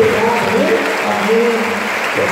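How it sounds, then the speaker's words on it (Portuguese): A church congregation at a Catholic Mass in Guararema, Brazil applauds steadily and densely for a couple of seconds, a full room of clapping with faint voices mixed in. "Uma salva de palmas"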